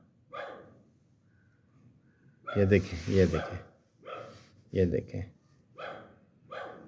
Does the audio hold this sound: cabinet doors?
no